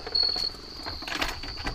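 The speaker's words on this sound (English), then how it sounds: "as the crickets are chirping" Crickets chirp in an evening garden near a pond, a steady high-pitched trill that carries on continuously, moderately loud, with faint rustling beneath it.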